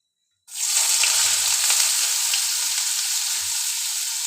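Chopped onions and cumin hit hot oil in a pan and burst into a loud, continuous sizzle that starts abruptly and hisses steadily on, with a few faint scraping stirs underneath.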